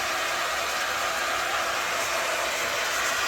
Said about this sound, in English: I'm going to go ahead and kick the hairdryer up one more notch.